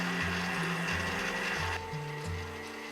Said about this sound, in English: Into an electric mixer, I'm going to put 100 grams of butter.